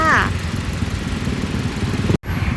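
A 2005 Honda CR-V's 2.4-litre VTEC engine runs steadily at idle, a low even rumble heard up close, with someone talking over it and a brief cutout near the end.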